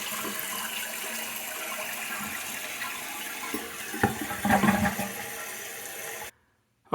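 A toilet flushes after its Fluidmaster universal fill valve has been adjusted, a steady rush of water that swells near the end before cutting off abruptly.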